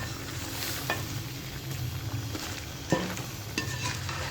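Pumpkin sabzi (kaddu) being stirred in a pot over low flame, a soft continuous scraping and mixing with a faint sizzle underneath and a couple of sharper spoon knocks, close and quiet, no voices.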